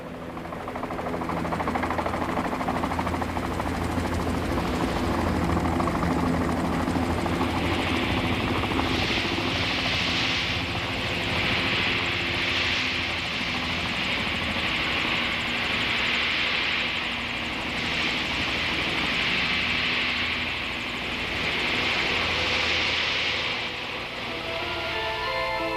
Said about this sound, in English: one team landed in Lowlan by helicopter